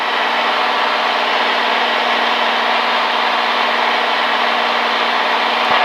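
Steady, loud drone of a small airplane's piston engine climbing at 2,400 RPM with 30 inches of manifold pressure, a continuous even roar with no pauses and no talk.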